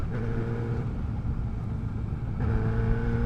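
A 600cc superbike engine held at full throttle in sixth gear, a steady droning engine hum with a slight dip and rise, fairly loud and continuous with wind noise.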